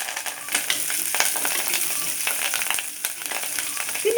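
Ginger, garlic and curry leaves frying in hot oil with cumin seeds for a spiced buttermilk curry, a steady close crackling sizzle with scattered sharper pops and occasional stirring scrapes, no voices.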